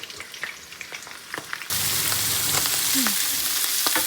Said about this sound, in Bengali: এটা ফার্স্টে লবণ আর হলুদ দিয়ে ভেজে নিব ভালো মতো করে